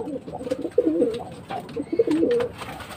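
Racing pigeons cooing at close range during a training session in Gapan, Nueva Ecija, several soft, low rolling coos overlapping in short bursts with faint outdoor background noise.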